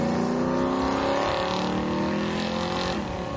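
A 1972 Chevrolet Nova bracket racing down a drag strip at Hot Rod Drag Week in Great Bend, Kansas, a loud steady engine roar at full throttle, droning continuously without a break.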